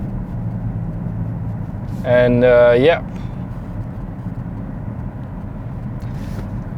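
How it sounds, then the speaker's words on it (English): Cabin of a 2020 BMW X6 cruising at about 65 km/h: a steady, low road and engine rumble fills the whole stretch, with a brief spoken remark partway through. "So now let's take this car for a spin. Let's go up to speed at 70,"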